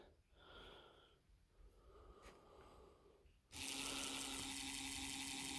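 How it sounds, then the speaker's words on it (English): 12-volt DC winch motor switching on partway through, a sudden loud steady whir with a constant hum after a few seconds of quiet workshop noise. "so the motor's turning one direction there"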